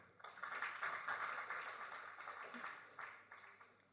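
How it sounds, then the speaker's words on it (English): A talk show studio audience claps for the panel, a faint, sustained patter of applause that thins out near the end, with a few stray voices underneath. "And let's clap for the panel."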